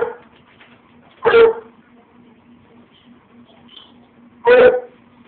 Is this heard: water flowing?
no